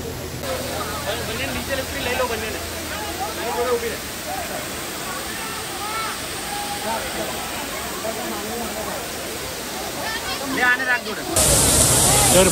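Dudhsagar Waterfall in Goa pours in a dense, steady roar of falling water, loud and continuous throughout, with faint voices mixed in beneath the rush.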